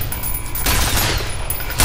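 Turret gunfire in the shooter game F.E.A.R. comes as a loud, sustained burst of rapid shots that swells partway through, with a fresh surge at the very end and no voice over it.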